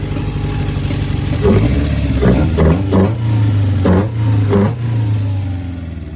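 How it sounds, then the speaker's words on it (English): A car fitted with a new cold air intake revs repeatedly from idle, several short rising throttle blips over a steady low engine hum, close and loud. "I'm gonna get the throttle body and I'm gonna rev it a little bit and you guys will hear it."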